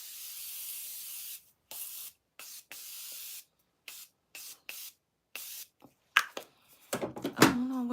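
A cosmetic setting spray bottle is pumped repeatedly, giving a series of short, close hissing mists with brief pauses between them, followed by some handling noise.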